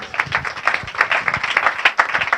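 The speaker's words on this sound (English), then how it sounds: "let's have a round of applause for that" Audience applause at a medical panel discussion: dense, steady clapping from a crowd that fills the whole moment, with no speech over it.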